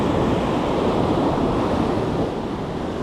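Ocean surf crashing onto a New Jersey beach during saltwater surf fishing, a loud, steady, close roar of breaking waves with wind, with no talking.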